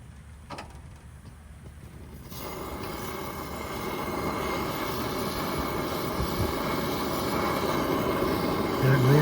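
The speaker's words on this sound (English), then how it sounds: "That roaring sound you hear is normal. That's part of this hot blast lighting procedure." Coleman Model 2D stove roaring during hot blast lighting, a steady broadband rushing roar that starts after a brief quieter moment and builds gradually louder, close and alone.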